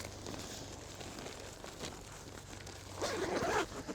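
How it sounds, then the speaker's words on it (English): A two-way zipper being opened along the top of a Khufu mid tent while pitching it, a soft continuous rasp with a louder, quicker zipping stretch near the end. "I like to unzip the top"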